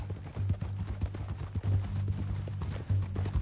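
Hooves of a horse in a PS4 western game clip-clop at a steady walking rhythm over a low ambient hum, close and moderately loud, with no talking.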